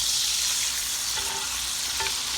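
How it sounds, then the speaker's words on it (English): Cut-up squash fries in vegetable oil in a pan, a constant bright hiss of sizzling with faint crackles and a couple of light tonal clinks, close and steady with no talk. "And just getting it good and fried up."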